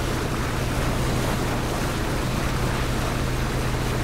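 A boat motors across open water in PUBG, a steady droning engine hum under constant wash and wind noise, even and unbroken, with no talking.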